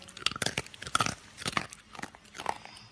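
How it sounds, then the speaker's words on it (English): Crunch sound effect played on a podcast, a series of sharp crunching, biting bursts in an irregular rhythm, close and crisp. "Paul, can you put in like a version of the crunch sound so everybody can hear what it sounds like?"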